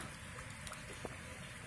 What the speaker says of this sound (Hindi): देखो वर्षा